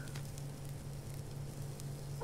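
Chicken frying on a stove in the survival video game Subsistence gives a faint, steady sizzle under a low hum, with no speech.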